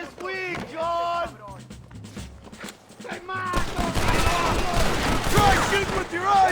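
Gunfire during a shootout in Red Dead Redemption, a dense volley of shots building in the second half, mixed with shouted voices and game sounds.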